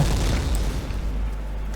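Explosion in the video game XSHOT, a deep sustained boom with heavy low rumble filling the whole stretch, loud and dense, no voices over it.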